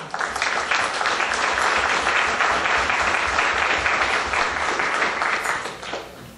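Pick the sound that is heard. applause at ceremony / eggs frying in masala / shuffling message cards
applause at ceremony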